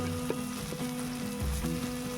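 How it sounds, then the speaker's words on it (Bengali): Soya chunks fry in hot oil in a wok, a soft, steady sizzle with a few light stirring knocks at fairly low volume. "দেওয়ার পরে তেলটা গরম হলে সয়াবিনগুলো দিয়ে দেব।"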